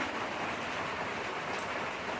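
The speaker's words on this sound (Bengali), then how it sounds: "ঝমঝম করে বৃষ্টি পড়াও শুরু হয়ে গেছে" Heavy rain pours down steadily, a dense, continuous hiss of drops on surfaces that stays even and close throughout, with no voices.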